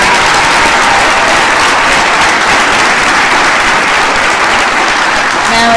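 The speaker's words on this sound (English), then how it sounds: "One more time, a big round of applause." A graduation ceremony audience keeps up loud, dense applause for the whole stretch, with a voice faintly starting up near the very end.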